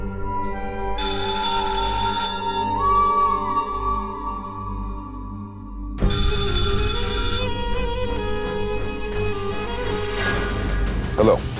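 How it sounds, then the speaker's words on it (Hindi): An old-style telephone bell rings in two long bursts with a pause between, heard over music, and a voice speaks near the end. "शुक्र है दुर्गा माँ का, आपने फोन उठाया।"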